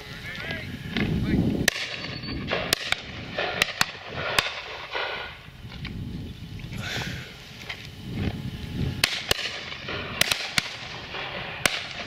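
Shotgun shots ring out at a pheasant and partridge shoot, several sharp cracks spaced irregularly, some in quick pairs, over outdoor rumble and movement with no clear speech.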